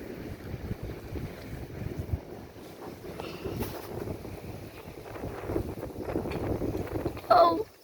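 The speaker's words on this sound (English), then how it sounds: "Oh, it's so windy." Strong wind blows steadily outdoors, a continuous low roar buffeting the microphone throughout, swelling slightly near the end.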